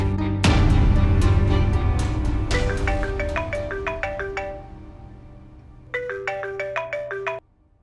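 A melodic phone ringtone plays loudly in repeated bright tonal phrases, pauses briefly, then starts up again.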